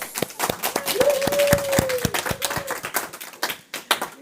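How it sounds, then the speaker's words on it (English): An audience applauds a guest speaker with dense, steady clapping throughout, and a faint whistle-like tone rises and falls over it early on. "shall we give our guest speaker a round of applause?"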